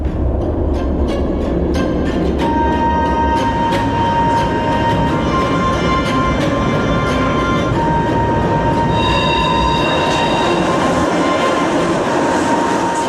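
A train rolls slowly through stations in Berlin during the Berlin Wall era, a loud continuous rumble with clicking wheels and a long high wheel squeal, no voices.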